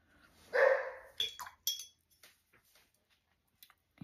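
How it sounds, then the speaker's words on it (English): A female dog gives a drawn-out, baying bark, one long loud howl-like call followed by a few shorter yips and clinks, close by indoors, then quiet. "She has this weird bark where she more bays than barks, and she's not a hound dog."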